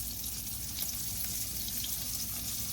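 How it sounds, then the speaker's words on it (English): Battered fish frying in hot grease, giving a steady, faint sizzle that hisses on without pause throughout. "The key to cooking fish is having hot grease."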